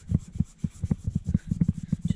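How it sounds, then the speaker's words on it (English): A Scotch-Brite pad scrubs a BMW K100 motorcycle part in quick rhythmic back-and-forth strokes, close and fairly loud, a steady series of rasping rubs with no talking. "And onto the Scotch-Brite pad."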